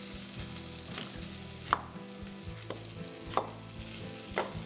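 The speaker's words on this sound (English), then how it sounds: "Perfect. Sizzling away." Steady sizzling of chicken frying in a pan, with occasional clinks and scrapes of a utensil stirring, close and continuous.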